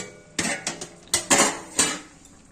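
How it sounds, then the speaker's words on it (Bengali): A lid comes off a cooking pot of spinach, potato and aubergine curry, giving a series of sharp metallic clanks and scrapes up close, then a ringing clatter that fades. "এখন ঢাকনাটা তুলে দেখাচ্ছি।"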